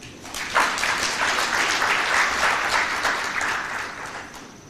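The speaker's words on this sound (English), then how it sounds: "And I want you to clap for that." Delegates at an African trade union congress in Nairobi clap together in a hall, the applause starting suddenly, then swelling into a dense, steady round before tapering slightly toward the end.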